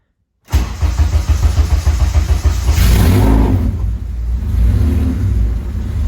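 A K-swapped Honda Civic race car engine fires up after a brief silence, catching at once and settling into a loud, steady, close-up rumble that rises slightly partway through and holds.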